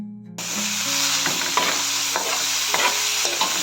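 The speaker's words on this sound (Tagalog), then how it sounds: "Hahaluin po natin mabuti kasi medyo luto na yung ating chicken." Chicken stirred in a pot with a steady loud sizzle throughout, the spoon scraping the pot several times in a loose rhythm, for a Filipino chicken and beef sotanghon soup.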